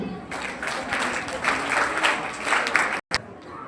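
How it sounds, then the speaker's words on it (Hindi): Loud, sustained audience applause at an annual exam results ceremony, clapping in rolling waves under a voice, cut briefly by a short silence near the end before resuming. "बड़ी ताली गुरु।"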